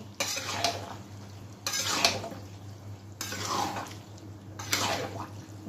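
Boiled peas for mutton ghugni are stirred and sautéed in a pan: four separate bursts of metal spatula scraping against the pan, close and fairly quiet, with brief pauses between strokes.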